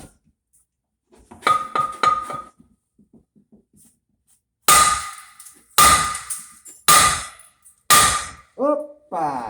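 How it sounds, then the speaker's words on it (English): A few light metallic taps, then four loud, ringing hammer blows on an old 4-inch cast iron vent pipe, evenly spaced, each clang decaying into a short metallic resonance. "I'm gonna hit it with a hammer now and see if I can get it to come free"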